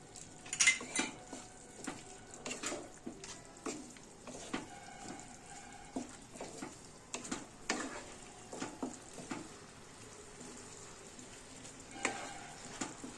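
Cauliflower chili being stirred in a pan, with repeated metal utensil scrapes and clinks against the pan over a faint sizzle, in irregular bursts throughout.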